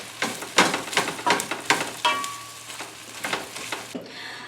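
Sautéed vegetables and spinach wilt in a hot pan for mini veggie meatloaves, a soft sizzle broken by a series of stirring scrapes and a brief metallic ring midway, close and fairly quiet.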